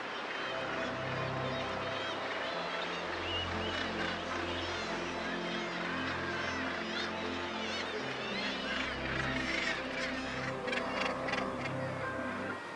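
Gannets squabbling at the Bempton Cliffs seabird colony: a dense, continuous din of harsh calls from many birds, steady and fairly distant, with wind-like background noise.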